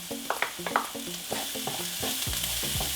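Fresh cilantro hits a hot frying pan with sizzling crackle while a utensil scrapes and stirs in quick strokes, close and fairly loud, no voices.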